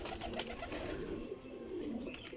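Young pigeons coo softly in a loft, low murmuring calls repeating faintly against a quiet background with no talk.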